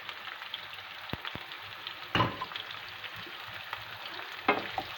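Onions sizzling steadily in a hot pan while preparing fougasse, a continuous close frying crackle with occasional louder bursts as they are stirred.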